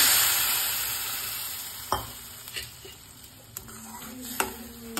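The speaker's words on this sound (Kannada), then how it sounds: "ಈಗ ಇದಕ್ಕೆ ಹಾಲು ಹಾಕೋತಾ ಇದ್ದೀನಿ" Milk poured into a pan of roasted vermicelli sets off a bright hissing sizzle that fades over the first couple of seconds, followed by scattered light clinks of a utensil against the pan.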